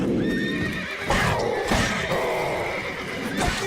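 Horses in The Witcher video game neigh and whinny in panic, loud and close, over a dense noisy scene with hooves clattering, several shrill cries overlapping.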